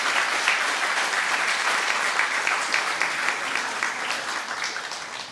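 Sustained applause from an audience at a professor's inauguration lecture, dense and even throughout with no pauses.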